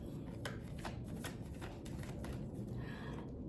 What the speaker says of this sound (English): I'm gonna pull up another card here.